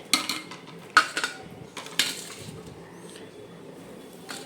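A spoon stirs salt into yogurt bajji in a bowl, making a few sharp clinks against the rim and then soft, wet scraping that fades to near quiet.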